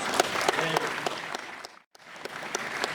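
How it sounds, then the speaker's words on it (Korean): A crowd at the opening ceremony of a Seoul textile materials trade fair applauds vigorously. The dense clapping breaks off into near silence for a moment before picking up again. "박수 한번 주세요"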